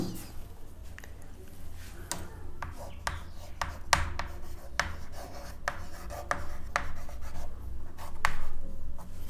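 Chalk or marker scratching across a classroom board as a topic name is written, a series of quick, close rubbing strokes in an irregular rhythm over a low background hum.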